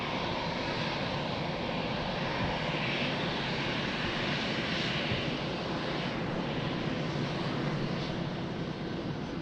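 A fixed-wing airplane rumbles in on landing at Lisbon Airport, a steady broad engine roar held at moderate distance for the whole stretch, no voices over it.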